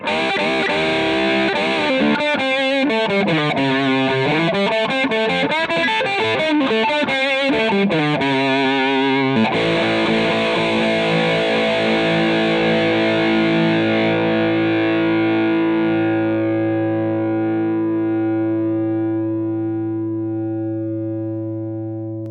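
Yamaha Revstar Standard electric guitar playing a distorted lead line with bends and quick notes, then a sustained chord ringing out and slowly fading.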